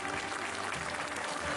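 Crowd applause at the Saint Fleuret festival coronation in Estaing, Aveyron, a steady dense wash of clapping that continues without a break through the whole short stretch.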